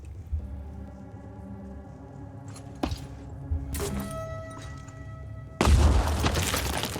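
Grenade blast in Phoenix Point: a few soft thuds and clicks against a quiet game backdrop, then one loud, broad explosion near the end that decays in a noisy rumble.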